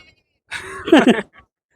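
A single drawn-out, wavering goat bleat with a nasal, quavering tone, close by at a goat market, followed by silence.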